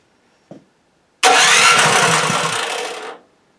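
Snow blower engine treated with Seafoam cranking and catching, a brief click followed by roughly two seconds of loud, rough engine roar that fades and cuts off abruptly.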